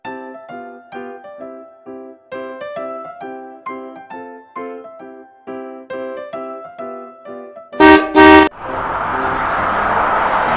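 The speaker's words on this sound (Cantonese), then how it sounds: "Taxi" A taxi horn gives two short, loud honks right after a plinking musical melody, then a steady wash of traffic noise takes over.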